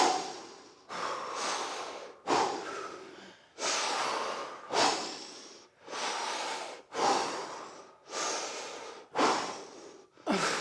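Deep, forceful breaths during a back stretch in a strong bow with the mouth open, about nine loud, even exhales repeating every second or so, each a broad rushing huff, close and alone.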